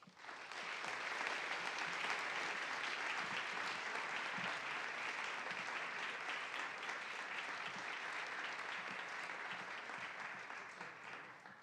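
Sustained audience applause at a school honors day celebration for three award winners, dense and steady clapping that swells quickly and holds for about eleven seconds before tapering slightly.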